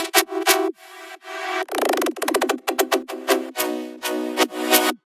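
Synth lead line for an electronic track, bright plucky notes in choppy rhythmic bursts with a sustained swell near the start, up close and alone.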